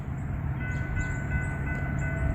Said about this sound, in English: I hear a train. I hear the locomotive.